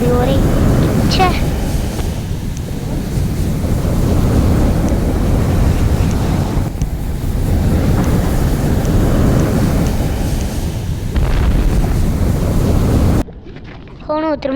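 Sea waves wash and roar in a steady, loud broadband rush with heavy wind buffeting the microphone, continuous for most of the stretch before cutting abruptly near the end.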